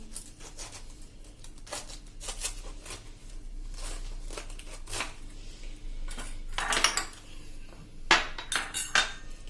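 A knife slicing through a cabbage on a board, sharp scattered cuts and knocks, some louder clustered strikes near the end, over a faint steady hum with no talking.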